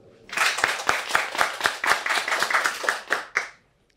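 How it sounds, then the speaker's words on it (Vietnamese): A round of clapping from a Catholic congregation at a Lenten Tuesday Mass on the feast of Saint Joseph, with distinct individual claps in an uneven rhythm that build, hold for about three seconds and stop abruptly. "Một tràng pháo tay thật lớn."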